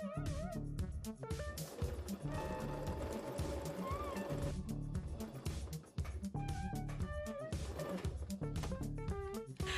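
A sewing machine stitches a velvet Halloween decoration, running steadily with a dense, continuous mechanical buzz and rhythmic needle chatter through the whole stretch, briefly easing near the middle before resuming.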